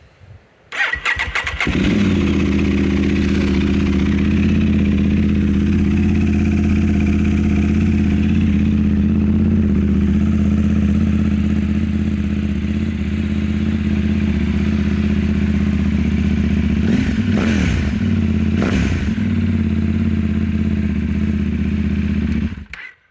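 A KTM Duke 890 GP motorcycle fitted with a VLAF exhaust cold-starts with a sharp burst. It settles into a loud, steady, throbbing idle close by, with a few brief revs and no talk.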